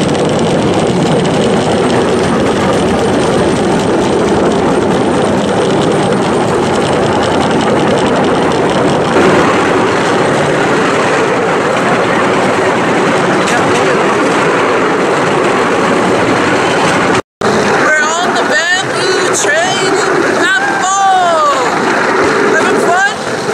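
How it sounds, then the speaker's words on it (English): A bamboo train with a 6-horsepower engine races along the rails, a loud continuous engine drone and rattling clatter with rushing wind, steady throughout, with a person talking over it near the end. "It has a 6-horsepower engine and we are going to be speeding through and see what we find."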